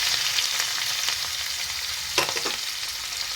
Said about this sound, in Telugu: ఇప్పుడు ఆయిల్ వేడయిందనమాట. దీంట్లో మనం ఉల్లిపాయలు ముక్కలు తరిగి ఉంచుకున్నాం కదా, దాన్ని వేసుకుందాం.